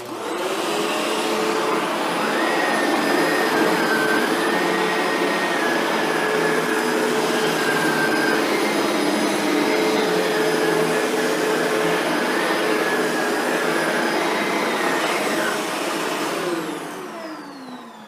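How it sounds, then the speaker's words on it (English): A Shark Rotator NV752 vacuum cleaner, set to low pile carpet, runs steadily at close range with a loud, constant whine and roar, with no voices, before winding down at the end. "we'll have the vacuum set to low pile carpet"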